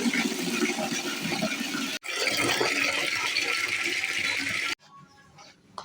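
Clothes and a dirty shoe being washed by hand with water, heard as steady splashing and running water that stops briefly, resumes, then drops to a quieter trickle near the end.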